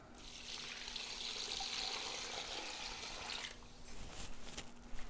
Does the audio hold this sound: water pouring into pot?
yes